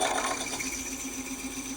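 A quarter-inch reamer turning slowly in brass on a milling machine gives a steady, quiet mechanical whir with a faint tonal hum, continuous and alone throughout.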